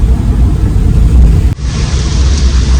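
A car being driven, its engine a steady low rumble throughout, loud and close, with a brief dip in level partway through.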